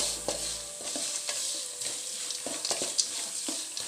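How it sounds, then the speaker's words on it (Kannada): Oil with turmeric frying in a pan while making lemon rice, a close steady sizzle broken by regular stirring scrapes and clinks, with no voices. "ಚೋಕು ಫ್ರೈ ಮಾಡ್ತದ"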